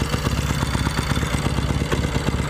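A 1964 Royal Enfield Interceptor Mk1 motorcycle engine idles close by with a steady, even rhythmic chug that holds throughout, no voices over it.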